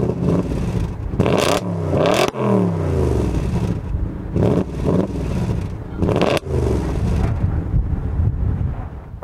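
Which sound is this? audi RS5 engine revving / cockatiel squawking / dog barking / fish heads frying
audi RS5 engine revving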